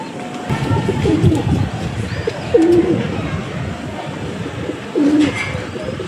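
A male Fulshira pigeon coos in short low phrases, repeated a few times at close range amid background murmur and other faint bird sounds.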